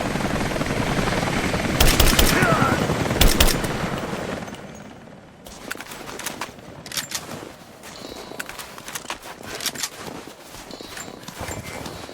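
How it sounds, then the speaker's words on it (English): Gunfire in Rise of the Tomb Raider roars in sustained automatic bursts over a thick, rotor-like drone, then thins into sharper, spaced volleys of shots for the rest of the stretch. "I'm taking fire!"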